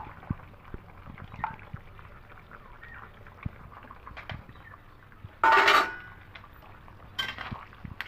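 Spoon scraping and clinking against a pan while shukto vegetable curry is mixed with ghee and fried spice, soft intermittent stirring taps with one louder clatter partway through.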